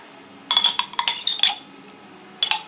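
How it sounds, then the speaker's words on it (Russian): A utensil clinks and scrapes against a bowl while mayonnaise and vinegar are mixed, a cluster of bright taps and knocks, a pause, then a few more close clinks. "И вот так вот перемешиваем это все."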